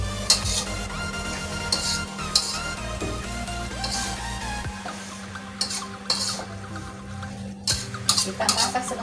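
Shrimp and broccoli with spring onion being stirred in oyster sauce in a pan, a spatula scraping and clattering against the metal in repeated strokes over a steady low sizzle, close and alone.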